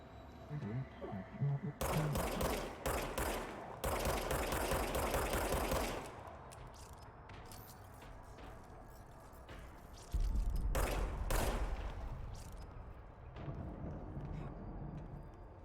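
Service weapon gunfire in the video game Control comes in several dense bursts of rapid shots, loud and close, with quieter gaps between them and a heavy burst near the end.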